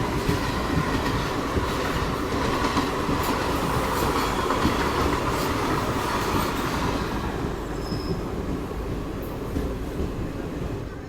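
The Ajmer–Chandigarh Garib Rath Express rolls along the rails with a steady, loud rumble and rattle from inside the carriage, the faint clack of the wheels and a brief squeal, with no voices.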